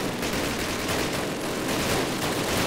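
Suppressing fire on enemy bunkers in Call of Duty: dense, steady gunfire roaring throughout at an even, loud level with no gaps.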